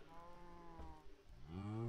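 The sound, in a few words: cow mooing in the video game Minecraft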